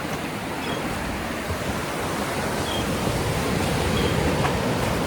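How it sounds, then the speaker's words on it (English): Ocean surf at a St. Augustine, Florida beach, heard from the water: a steady, close, hissing wash of waves with no break and no voices. "Never thought I'd be vlogging while I'm in the ocean"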